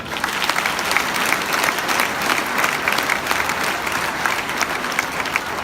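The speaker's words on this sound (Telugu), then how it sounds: "నా భర్త వెంకటేష్ సార్కి ఒక్కసారి క్లాప్స్." A stage audience claps in a dense, sustained round of applause, many hands together at an even, steady level from start to finish.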